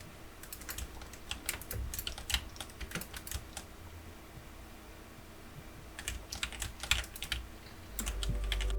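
Rapid clicks from a keyboard and mouse during PC gaming, in bursts with a quiet pause between, over a faint steady hum of fans in a compact Louqe Ghost S1 build, close and moderately quiet.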